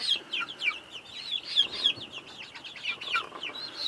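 Several young chickens, including olive eggers, cluck and chirp in short, overlapping calls in a coop at a steady, busy pace, close by and moderately loud, with no talking.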